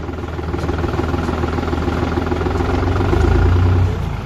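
A New Holland T480 S tractor engine runs steadily in first gear with a deep, continuous diesel rumble that swells slightly louder near the end, close and alone without talk.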